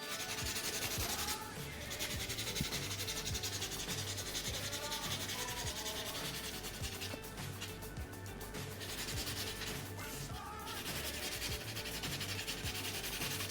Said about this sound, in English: I started with the hand sanding. We use size 150 from the top to here.